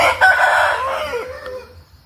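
A fighting rooster crows loudly and close by at a poultry farm, one long drawn-out call that rises and then fades away, with low rumbling noise underneath.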